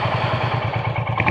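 A Royal Enfield Hunter 350 motorcycle engine starts and thumps steadily at idle, close up, with a regular low pulsing beat and some mechanical clatter.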